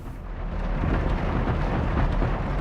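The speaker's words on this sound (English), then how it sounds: "Listen to that rain pitter-pattering outside." Rain and rumbling thunder outside in the Star Fox Adventures video game, a steady dense wash of rainfall under a low, continuous rolling rumble, moderately loud and without voices.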